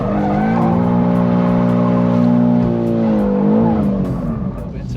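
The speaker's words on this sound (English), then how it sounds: "Come down here into that open bit, do some donuts, and then come out of the donut in second gear." A 600 hp BMW G87 M2 spinning drift donuts at a drag strip, its engine holding a loud sustained drone with a slight pitch dip as the tyres squeal steadily up close.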